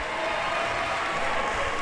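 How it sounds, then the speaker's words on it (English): Crowd in a high school basketball gym applauds a 5'11" junior guard checking in as a substitute, a steady wash of clapping and cheering that holds at an even level through the short moment. "He gets a round of applause."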